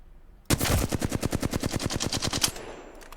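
Full-auto bursts from the Flatline assault rifle in the Apex Legends video game, a rapid, even stream of about twenty loud, punchy shots over two seconds, ending abruptly, with no talk.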